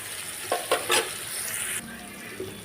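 Tomatoes, onions and green chillies frying in oil in a pan, a continuous close sizzle broken by a few scraping stirs of a spoon.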